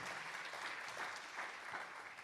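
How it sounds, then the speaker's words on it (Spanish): A church congregation applauds during a sermon, a dense, fairly faint and distant patter of many hands clapping steadily for the whole stretch. "Denle un aplauso al Señor Jesús."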